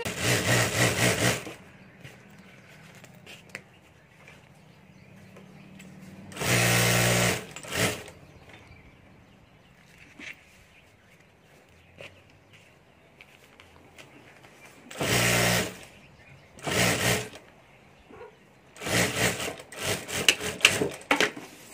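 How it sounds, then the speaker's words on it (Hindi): An electric sewing machine stitches lining over the zip of a fabric lunch box in short bursts of rapid whirring, several separate runs spread between quiet pauses, close and clear. "और यहाँ ऊपर हमें सिलाई कर देनी"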